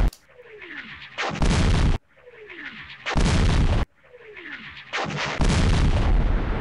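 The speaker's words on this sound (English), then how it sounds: "Is that a mortar that took that unit down?" Three heavy mortar impacts boom in the war game Campaign Series: West Front, each a sharp blast that rolls into a long, loud rumble after a short whistling lead-in, with a brief exclamation heard.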